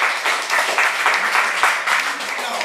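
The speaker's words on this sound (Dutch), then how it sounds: "Mag je een applaus doen voor mijn volgende?" An audience at a diabetes kickoff event claps in a lively burst of many hands, with rhythmic surges in the clapping and faint voices mixed underneath.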